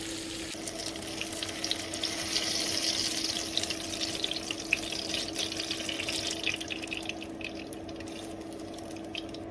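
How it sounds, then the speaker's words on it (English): Chopped scallions fry in hot oil in a wok or pan, giving a steady, close crackling sizzle with fine popping that continues for several seconds. "Fry until golden."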